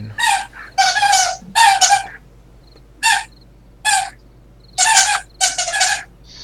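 A pet duck named Quack squawks near the microphone in a string of about seven loud, raspy quacks, each with a short gap after it, over a low, steady room hum.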